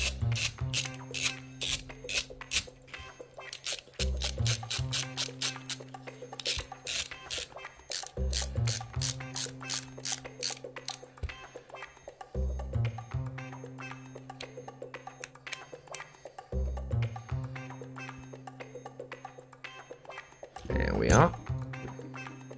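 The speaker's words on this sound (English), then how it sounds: "screw it in place from the bottom with two M3x25 countersunk bolts" M3x25 countersunk bolts screwed into a 3D-printed probe base, rapid ratcheting clicks in bursts from a tool, close and steady, with pauses and a brief rustle near the end.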